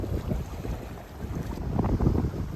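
A sailboat on a broad reach in light wind and modest waves, giving a continuous rush of wind and water with gentle swells in loudness, no voices.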